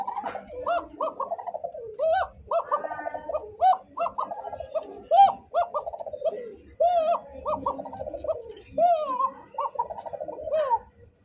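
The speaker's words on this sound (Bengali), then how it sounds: "আসলে এই কোকা কবুতর গুলো ডাক থাকে 100 এর উপরে" Koka pigeons coo nearby in repeated rhythmic bursts of rolling, rising calls, loud and clear, separated by short pauses.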